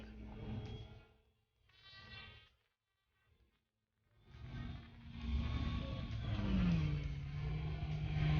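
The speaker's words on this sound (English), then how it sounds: "CVRT light tanks are exceptionally fast." A CVRT light tank drives past at a Desert Storm tank show at the Ontario Regiment Museum, its engine rising from short bursts into a loud, sustained roar with a climbing whine as it speeds close by.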